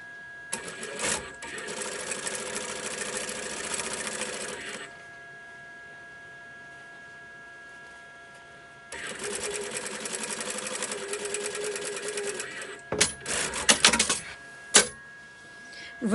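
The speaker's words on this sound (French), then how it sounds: "Eh bien, vous venez coudre cette" A domestic sewing machine stitches the lining of a quilted crossbody backpack in two long steady bursts of rapid whirring, with a pause between and short stop-start runs at the end.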